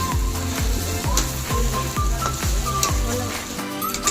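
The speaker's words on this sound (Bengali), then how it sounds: "এবারে আমি আলুটা দিয়ে দেব। দশ মিনিট নাড়াচাড়া করে," Potatoes frying in a pan while being stirred, with a steady sizzle under repeated, evenly spaced scraping strokes, loud and close, and no talking.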